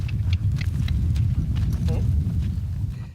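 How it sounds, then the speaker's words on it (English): Quarter horse hooves clip-clopping at a brisk pace on a ranch, a steady run of loud close thuds that carries on through the whole stretch without letting up. "Giving us a demonstration on an aptly named quarter horse, right quick like."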